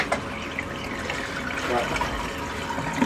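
Water running and gurgling through a newly cleared laundry tub drain, a steady wet trickle and rush heard up close with a brief spoken word at the start.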